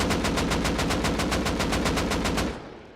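An AK rifle in the Rust video game fires full auto in one unbroken burst of rapid, evenly spaced loud shots lasting about two and a half seconds, then a short fading echo.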